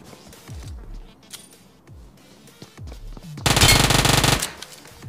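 Distant single gunshots pop intermittently in the game BGMI (PUBG Mobile), then a sustained burst of loud automatic fire erupts close by before cutting off.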